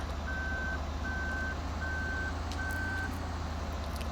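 Reversing beeps from a Cat Lexion 590/580R combine harvester in Farming Simulator 2013, four evenly spaced steady tones over a constant low engine rumble, clear and alone.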